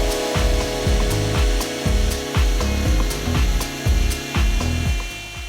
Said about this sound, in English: we want to leave the router till it fully stops before you remove it from the jig